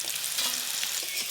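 Bitter gourd with turmeric and salt fries in hot oil, a dense, close sizzle with faint stirring scrapes mixed in.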